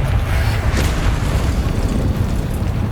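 Bombarda blasting spell cast in the Hogwarts Legacy video game, a sustained low booming explosion with rumbling roar filling the whole moment, loud and close, no talking over it.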